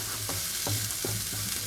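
Filling for crispy chili pakora with green chilies sizzles in a pan, a steady frying hiss broken by a few regular scraping stir strokes at close range.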